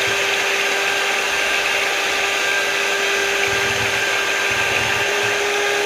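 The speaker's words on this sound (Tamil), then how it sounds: "இதை நல்லா அடித்து அது கொல கொல பதமாக வந்துருச்சு" A kuppaimeni herbal soap mixture is beaten into a thick, frothy state, heard as a loud, continuous, steady motor-like whir with a constant hum that runs without pause.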